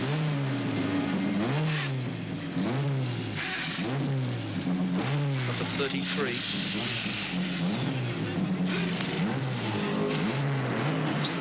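Race car at Bathurst in 1981 accelerating out of the pits to rejoin the race, engine revving hard and loud close by under continuous commentary, with other cars roaring past in the background.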